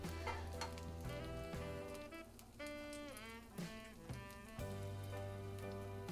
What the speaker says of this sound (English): I'm just going to go ahead and just kind of mix in the cheese just ever so slightly.